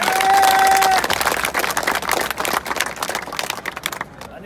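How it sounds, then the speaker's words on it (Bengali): Loud audience applause at a protest gathering at a Bangladeshi national university, welcoming Hanif Khandakar, with a steady wash of clapping that thins out toward the end. "আসেন আমরা অনেক জোরে করতালির মাধ্যমে আমরা হানিফ খন্দকার ভাইকে স্বাগত জানাই"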